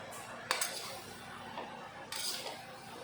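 Bottle gourd being mixed with salt in a pot, with a spoon scraping and knocking against the metal in two short bursts over a quiet background.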